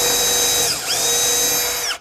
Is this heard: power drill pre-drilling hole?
yes